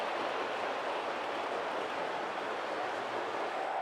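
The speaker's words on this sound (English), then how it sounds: "But these are by far the biggest trains we have." Large garden-scale model trains running on track at a model railroad club layout, a continuous steady rumbling roll that stays even throughout, with no voices.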